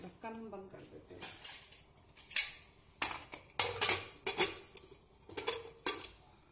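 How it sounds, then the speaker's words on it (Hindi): A pressure cooker lid is shut and locked over rice and peas cooking for matar pulao, giving a series of sharp metallic clanks and clicks close by in a kitchen, spread unevenly over several seconds. "अब इसका ढक्कन हम बंद कर देते हैं।"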